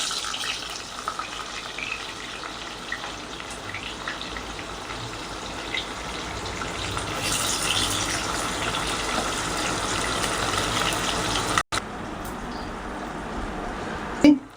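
Onions go into hot oil and spices for soya white pulao, giving a loud, steady sizzle and hiss that keeps going for several seconds, with one brief dropout and a clink near the end.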